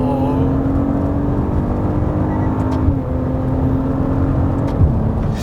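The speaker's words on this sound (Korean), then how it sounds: "제가 봤을 때는 여기서 배기음이 조금 더 커질 가능성도 있어요" Porsche SUV engine and exhaust humming steadily while driving, a loud continuous low drone with mild revving swells and no talk throughout.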